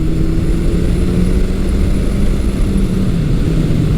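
A 1982 Suzuki GS750E motorcycle with a 750 engine runs steadily nearby, a low continuous engine drone with slight pitch shifts as the revs change, loud and without talk.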